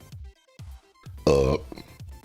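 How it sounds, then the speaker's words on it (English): A single loud, croaky burp sounds close up midway through, set among soft thuds and small background noises during a casual live stream. "I picked now to need to burp multiple times consecutively."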